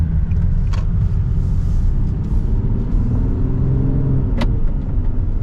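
A 2018 Nissan 370Z NISMO sports car drives along with a steady, loud engine rumble and road noise throughout, a couple of faint higher clicks standing out briefly.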